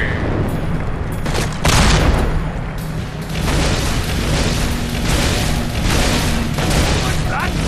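Gunfire in the video game Fable II: heavy booming shots and bursts layered over a dense battle soundscape with game music, loud and continuous, with a stronger blast around two seconds in.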